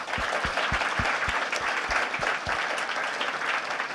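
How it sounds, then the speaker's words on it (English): An audience applauds presenters at a lightning talk session of the Rakuten Technology Conference 2013. The clapping is steady, dense and fairly loud, and it sustains for the full four seconds without a break. "please give them a big applause"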